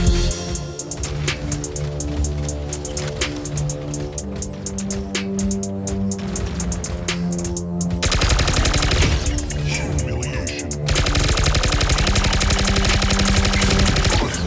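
Mech cannons in the game Mech Arena chatter in sustained machine-gun bursts that grow louder and denser halfway through, set over droning game music with no talk.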